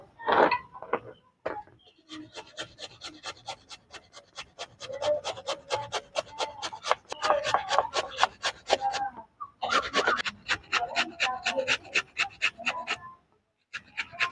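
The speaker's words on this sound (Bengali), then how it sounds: "এখন আমি আলুটা গ্রেট করে নেব" A raw potato is rubbed against a kitchen grater in quick, steady rasping strokes, close and fairly loud, running in long bursts with short pauses between them and no talk.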